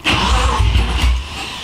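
A BMW 318ti with a trunk-mounted battery cranks and its engine fires for about a second, a loud low rumble with a brief surge that sags and dies away, close and with no voices.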